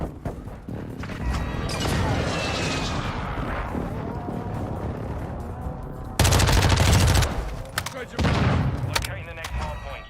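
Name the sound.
enemy precision airstrike in a video game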